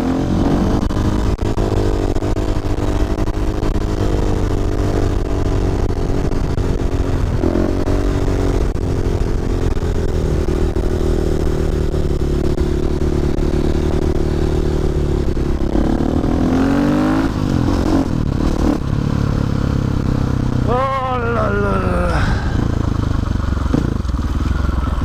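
Husqvarna 450 FE supermoto motorcycle engine during a wheelie test, loud and close, droning and revving continuously with rising and falling pitch sweeps toward the end.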